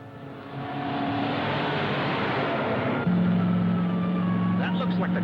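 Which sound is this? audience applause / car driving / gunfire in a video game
car driving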